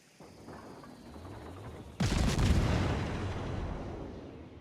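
A tier V American cruiser, USS Omaha, fires its main battery guns in World of Warships: a low rumble builds, then one loud deep boom erupts and rolls into a long fading blast, close and with no talk over it.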